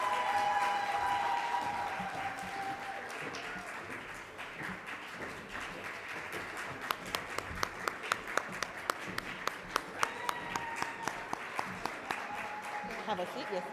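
Applause from the audience at a public sector debate competition grand final carries on while teams take their seats, steady clapping that dips midway, then picks up with distinct individual claps; a voice speaks over it.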